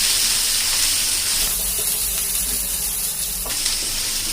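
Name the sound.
garlic frying in a pan for soya manchurian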